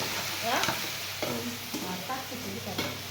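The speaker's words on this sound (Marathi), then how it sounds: "मस्त अशी फोडणी बसन अशी भाजी टाकते आता" Vegetables sizzle in hot oil seasoned with a tempering as a spoon scrapes and stirs the pan in several distinct strokes, loud and close over a steady frying hiss.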